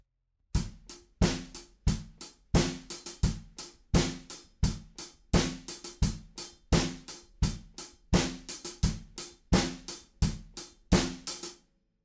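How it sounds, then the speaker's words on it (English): Drum kit playing a beat: four-on-the-floor kick, snare on two and four, and eighth-note hi-hat, a steady, close, clean groove with no talking over it. "So it's kicks, four on the floor, snare on two and four, and eighth notes on the hi-hat"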